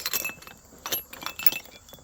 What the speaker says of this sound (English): Look at that, Westmoreland glass bell.